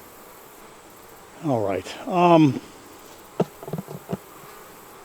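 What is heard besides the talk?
honey bees at a hive in the bee yard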